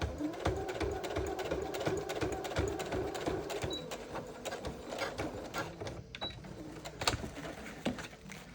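A sewing machine stitches through a vinyl project bag, its needle chattering in a fast, steady rhythm close to the microphone for several seconds, with small clicks and bumps along the way.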